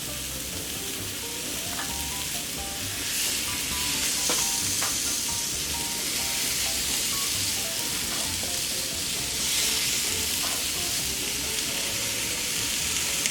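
Sweet Italian sausage frying in a pan, a continuous loud sizzle and crackle with occasional stirring and scraping, close up and with no talking.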